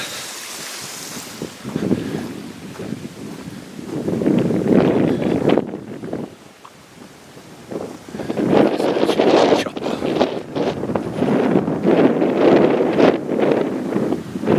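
Strong wind gusts buffet the microphone in rough, roaring surges that rise and fall, briefly easing midway before blowing hard again.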